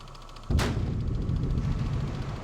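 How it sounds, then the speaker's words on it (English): A single heavy boom of depth charges firing in the Victory at Sea Atlantic naval video game, a sudden blast followed by a rumbling decay that lingers for two seconds. "Fire off multiple charges"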